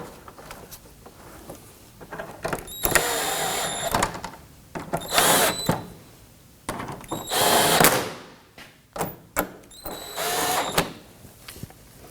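A power driver snugs splash shield screws under a Toyota Camry, giving several short, loud whirring bursts separated by pauses, with faint clunks and handling noise in between, close up.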